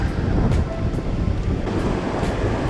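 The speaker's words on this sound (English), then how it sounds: "Like it's coming right up to here, some of the waves." Ocean waves washing onto a sand beach as the tide comes in, a loud continuous wash of surf with wind rumbling across the microphone, no voices.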